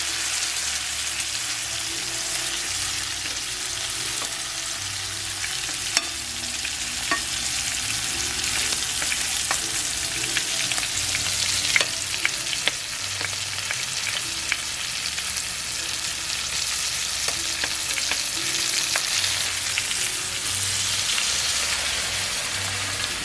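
Rosemary frying in butter in a pan for a T-bone steak, a steady crackling sizzle with small spattering pops that runs continuously and fairly loud, with no voices.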